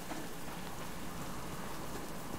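Steady rain in the survival video game Subsistence, a dense, even hiss of falling drops that fills the scene evenly at constant loudness with no voices over it.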